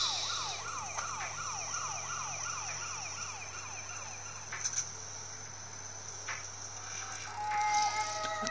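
A game ambulance siren wails in repeated rising-and-falling sweeps in GTA Chinatown Wars, fairly quiet over a low engine drone, then fades as other brief electronic tones follow.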